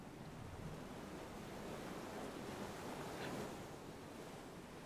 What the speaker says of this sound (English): I'm going against the waves